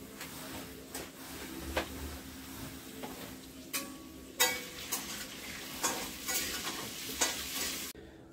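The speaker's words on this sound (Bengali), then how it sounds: "একটু হলুদ দিয়ে ভেজে নেবো।" Eggs and potatoes frying with turmeric in hot oil, a constant sizzle broken by a series of sharp spatula taps and scrapes against the pan, no talk.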